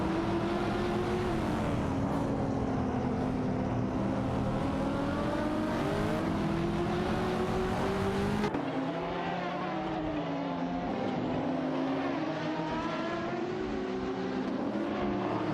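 A Ferrari 599 GTO and a McLaren 570S duel in a racing game, engines droning loud and continuous with rising and falling pitch as gears change, one car's tone shifting partway through, no voices.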